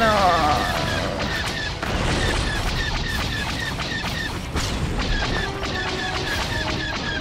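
Dense, continuous rumbling booms and blasts from a space battle in the game Star Wars: The Old Republic, a steady barrage of heavy cannon-like fire with electronic whooshes layered throughout.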